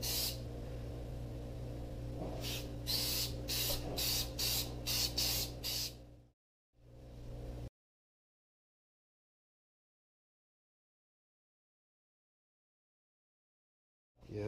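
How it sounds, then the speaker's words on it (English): A close, loud atomizing spray gun sprays shellac, hissing steadily and pulsing in rapid bursts, then cuts off, gives one more short blast, and falls silent. "an atomizing spray gun with shellac"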